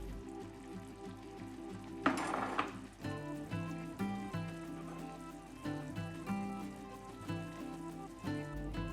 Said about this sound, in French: je vais rajouter de l'eau de cuisson des pâtes